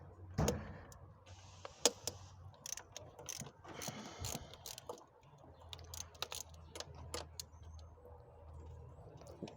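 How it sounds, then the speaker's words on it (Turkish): A ratchet wrench with a 13 mm socket loosens four bolts during cleaning of a throttle body, with quiet clicking and mechanical ratcheting bursts in an irregular rhythm, close but fairly faint, alone without talk. "Dört adet on üç lokmalık cıvatlarını açıyoruz."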